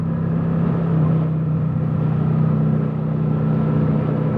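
A Kawasaki Vulcan 900 motorcycle engine drones steadily while riding, a constant low loud hum with wind rush and no talking.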